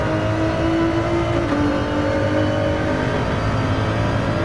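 The 3.5-litre EcoBoost V6 of a Ford GT-LM race car in Gran Turismo 7, heard from inside, drones steadily at high revs, a continuous loud mechanical whine with a slight pitch shift midway.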